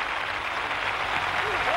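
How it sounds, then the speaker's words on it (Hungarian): A pageant audience applauds German contestant Sabrina Lallinger, a steady, even roar of clapping filling the whole moment, with a voice faintly present underneath. "A bajor Sabrina Lallinger kapja a legnagyobb tapsot közülünk."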